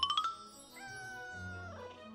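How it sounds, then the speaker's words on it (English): A cat in the video game Let Them Trade meows with a few short, rising mews at the start, then gives a longer drawn-out meow, clear and close over quiet game ambience. "There's a cat."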